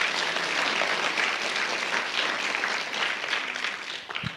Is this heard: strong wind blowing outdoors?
no